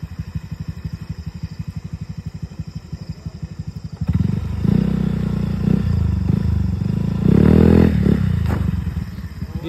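Motorcycle engine during wheelie practice, a steady close idle that rises into loud, revving throttle bursts, with people talking faintly in the background.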